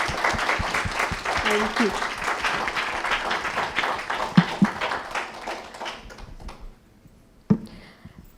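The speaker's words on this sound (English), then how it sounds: "May I request for a huge round of applause for them before they leave the stage" Audience applause for speakers leaving the stage at a women-and-millets event, a dense patter of clapping that thins and fades into near silence with a few isolated claps, as a brief thank-you is spoken.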